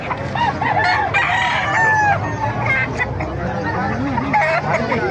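Hatch gray gamefowl roosters crow repeatedly and cluck close by in a yard full of other fowl, with a person talking over the calls.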